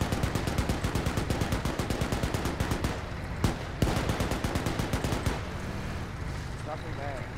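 Sustained rapid automatic gunfire in a video game rattles steadily through most of the span, broken by a couple of sharper louder shots before it thins out near the end.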